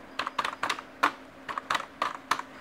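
Close, crisp keystrokes on a computer keyboard while a mother's name is entered into an Indian visa application form, about a dozen taps in uneven quick bursts with brief pauses.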